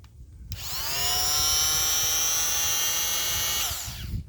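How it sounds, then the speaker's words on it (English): An oscillating saw cuts a plastic dashboard bracket in a 2016 Kia Sorento, starting abruptly into a steady, buzzing high whine that holds for about three seconds before winding down, fairly close. "All right, getting ready to cut that bracket out. I'm going to try using an oscillating saw here."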